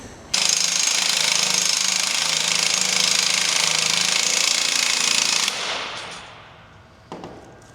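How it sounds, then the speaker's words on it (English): A powered spring compressor on an F-150 Raptor coil spring rattles loudly and continuously for about five seconds, then cuts off and winds down, followed by a short burst. "this is a big enough diameter spring that I can actually get the spring compressor in here"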